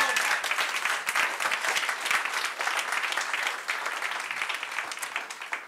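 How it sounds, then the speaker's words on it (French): A live audience at a company evening event applauds warmly, dense steady clapping filling the room for several seconds before slowly thinning at the end, with no voices over it. "On l'applaudit,"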